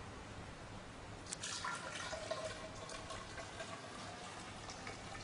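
Water, 400 ml of it, pouring into a measuring cylinder during a modified Proctor soil test, a soft trickling splash with a brief louder gush, faint over steady room noise.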